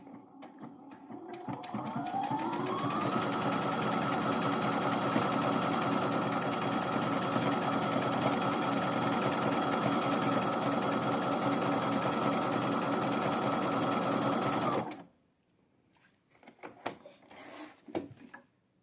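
An embroidery machine converted to straight stitching sews on black fabric: a steady, fast mechanical whir starts up, holds for about thirteen seconds, then stops, followed by a few soft handling clicks and rustles nearby.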